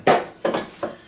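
An eight by eight baking pan handled in a kitchen while boxed brownies are prepared, three quick metallic clanks knocking against a surface in close succession.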